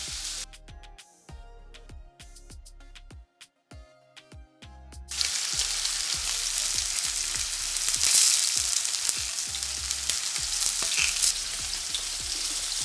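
Sausages fry in two pans at once, some with skin and some without. Sharp crackles and pops come over a quieter start, then a loud, dense sizzle takes over and holds steadily to the end.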